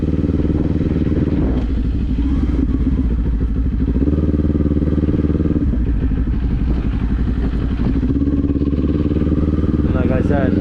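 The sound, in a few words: motorcycle riding and shifting gears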